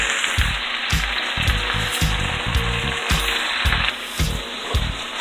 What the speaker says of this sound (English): got all the cabbage cut up and in the wok